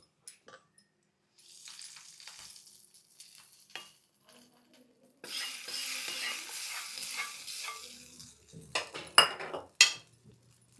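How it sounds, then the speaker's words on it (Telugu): Seeds dry-roasting in a pan while being stirred, scattered spoon scrapes and clinks on the pan, then a burst of crackling sizzle for a few seconds followed by sharper metallic scraping and taps, close and without talking. "బాగా కొంచెం దోరగా వేగితే సీడ్స్ మంచి అరుమ వస్తుంది"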